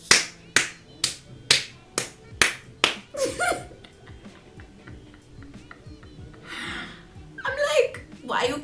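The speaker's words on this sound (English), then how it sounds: "Why are you clapping?" A group of university students clap in a steady rhythm, about seven sharp claps, during an oral class test presentation. The claps are followed by quieter chatter and a little laughter.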